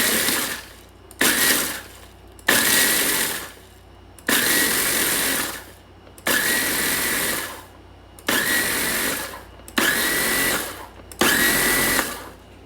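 Food processor blitzing Butterfinger candy bars in repeated short pulses, about eight loud whirring bursts of a second or so each, separated by brief pauses.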